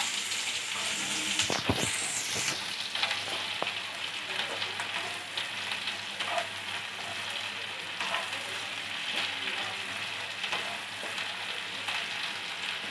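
Chopped onion frying in a pan sizzles steadily and loudly up close, with a sharp burst of spatter near the start as the onion goes in, then a continuous crackling hiss without speech.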